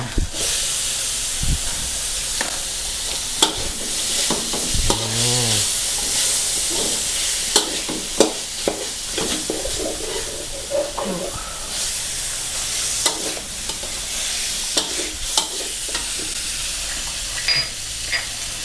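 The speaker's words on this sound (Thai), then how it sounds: "อันนี้เราผัดรวมลงไป นี่อันนี้ผัดให้หอม" Pork belly with chili-ginger curry paste and torn kaffir lime leaves stir-fries in a wok for phat prik khing, a loud steady sizzle broken by scraping spatula strokes and clanks, with brief speech now and then.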